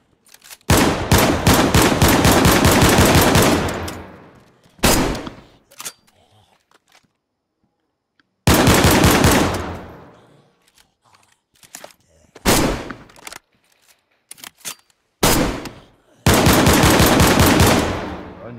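Automatic gunfire in DayZ as players shoot at a base, coming in long, loud, rapid bursts of shots with shorter volleys between, separated by quiet pauses and some talk.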